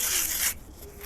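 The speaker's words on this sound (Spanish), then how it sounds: "Yo voy a pasar a lijar todo y les muestro el resultado." A brief hand-sanding stroke on a cement planter gives a loud, harsh rasping scrape that stops abruptly halfway through, leaving quieter room noise.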